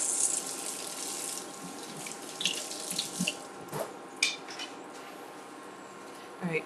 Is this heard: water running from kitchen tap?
yes